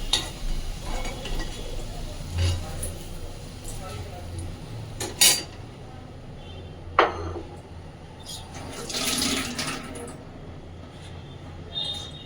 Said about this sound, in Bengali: এবার আমি কুমড়ো ভাজাটাকেও তুলে নিচ্ছি বাটিতে।